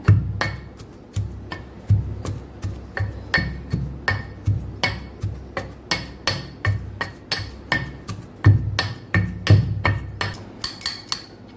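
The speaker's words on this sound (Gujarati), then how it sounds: "બે ચમચી જેટલું આપણે લાલ મરચું પાવડર ઉમેરી અને પાછું લસણને સરસ ખાંડી લેવાનું છે ચટણી તૈયાર કરી લેવાની છે" Garlic and red chili powder are pounded for chutney in sharp, regular thuds, roughly two strikes per second, each a loud knock ringing slightly against the pot, continuing steadily without talk.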